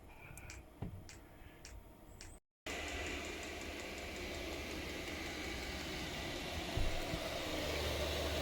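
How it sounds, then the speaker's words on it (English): A Chinese diesel heater runs inside a camper van, giving a steady low drone with a few faint ticks early on and one brief dropout. "The pump, the diesel heater has now gone quieter."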